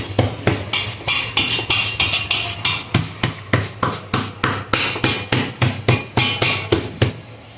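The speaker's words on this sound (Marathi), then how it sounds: "आता आपण भाकरी थापूया. भाकरी थापायची." Bhakri dough is patted flat by hand, giving a steady run of rhythmic slapping pats, close and fairly loud, at a quick even pace with no talk.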